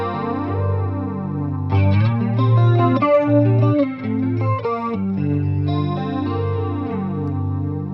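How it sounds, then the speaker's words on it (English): Electric guitar through a Keeley pedal set to a rotary flange effect, the chords and notes swirling and sweeping with a thick, warm modulation, close and sustained without talk. "This has also got a really kind of clever rotary I think we can listen to in a flange."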